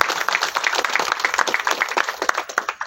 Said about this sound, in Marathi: तर एकदा परत खूप जोरदार टाळ्या